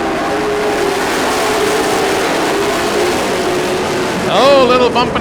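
Race cars barrel into turn 1 with some bumping among three cars side by side, their engines a sustained roar until a sharp whining sweep near the end.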